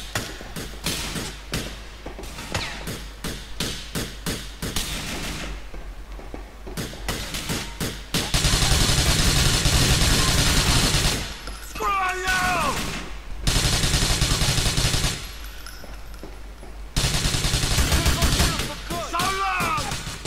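Gunfire in Grand Theft Auto, with rapid bursts of shots crackling in a loud, dense volley, then heavier sustained firing in long blasts separated by short gaps.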